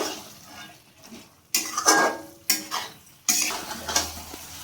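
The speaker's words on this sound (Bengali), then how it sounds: "এবার চিকেনটা দিয়েও আমি মশলার সাথে ভালোভাবে কষিয়ে নেব" Chicken being stir-fried with masala in a pan, spatula scraping and clattering in loud bursts over a steady sizzle, close up with no talking.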